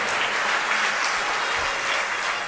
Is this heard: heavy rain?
no